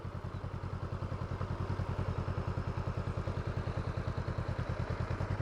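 Motorcycle engine idling and putting along slowly through a figure-eight between cones, a steady low throbbing pulse, soft and fairly close, with no talking.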